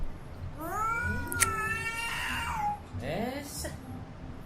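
A cat gives a couple of drawn-out, wavering meows, one rising and falling, close and fairly loud, while a person talks alongside.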